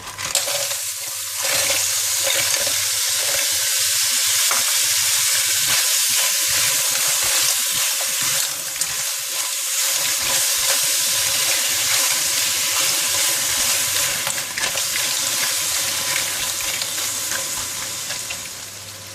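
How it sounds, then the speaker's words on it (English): Clams stir-fried in Thai chili paste sizzle loudly and steadily in a hot pan, with wet bubbling and scraping from stirring running underneath throughout. "I'm putting in the clam or lala."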